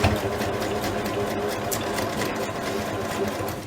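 A home sewing machine runs fast and steadily, stitching through four bunched layers of old t-shirt fabric with a close, continuous mechanical whir and rapid needle clatter.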